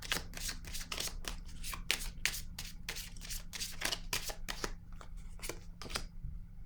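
Tarot cards are shuffled and drawn in a quick series of crisp riffling bursts, close and fairly quiet, thinning out toward the end.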